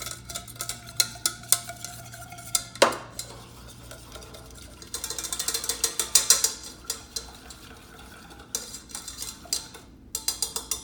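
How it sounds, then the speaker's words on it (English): Cheese sauce for a Philly cheesesteak being stirred in a pot, a steady run of close scraping and clinking strokes, with a brief louder clatter and a denser patch of stirring later on. "we gotta just make sure we mix it out good so you don't get any lumps in there"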